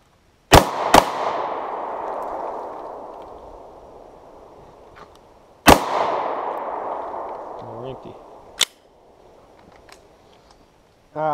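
Pistol shots fired at boulders outdoors: a quick pair of loud cracks, then a single shot about five seconds later, each with a long echoing decay off the rocks, followed by a faint metallic clink.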